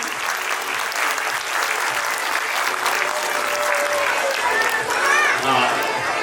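An audience at a school annual function gives loud, sustained applause for KG and first class children, with crowd noise and voices mixed in.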